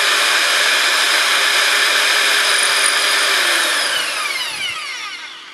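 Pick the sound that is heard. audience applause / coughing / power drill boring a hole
power drill boring a hole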